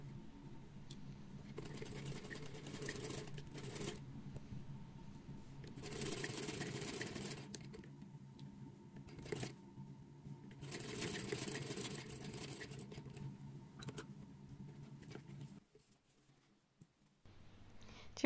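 Strips of fabric stitched together on a sewing machine, sewing a seam about 7 mm from the edge. The machine runs in a close, steady whir in several long bursts, separated by short pauses.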